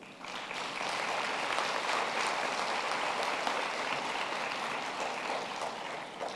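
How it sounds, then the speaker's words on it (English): A graduation ceremony audience at the University of the Free State gives sustained applause, a dense, even crowd clapping that carries on steadily from start to finish without a break. "give them a warm round of applause"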